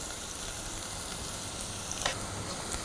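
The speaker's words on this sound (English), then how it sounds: "Fry onions until soft and light brown" Onions frying in oil with pandan and curry leaves for a Sri Lankan beef curry, a steady soft sizzle throughout with a couple of faint stirring taps.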